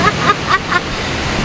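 Sea waves wash steadily onto a beach in a constant loud surge. Faint, indistinct voices sit underneath.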